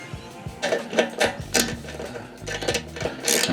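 A torque wrench tightens a bolt on a Kawasaki motorcycle fuel pump, giving small, close ratcheting clicks in short uneven bursts with light metallic knocks in a quiet workshop.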